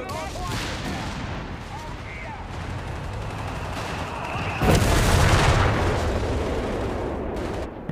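Mortar and gunfire in the WWII strategy game Company of Heroes 3 during a 4v4 match: a steady clatter of battle, then a loud, broad blast near the midpoint that rolls on into sustained rumbling, with voices heard early on.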